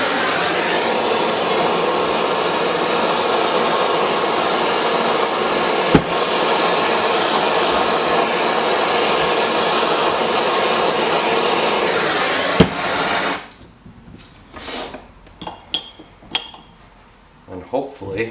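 A heat tool blows steadily while warming a bearing housing on a Suzuki RM-Z250 dirt bike. The loud, even whoosh lasts about thirteen seconds, then cuts off, leaving scattered clinks and light handling noises.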